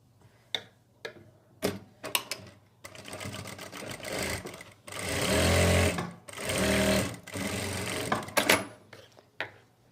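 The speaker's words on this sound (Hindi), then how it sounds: "अब इनके ऊपर लगाएंगे हम सिलाई" Sewing machine stitching pleats on wrap palazzo trousers, with short ticking stitch bursts giving way to longer loud runs of steady stitching separated by brief pauses.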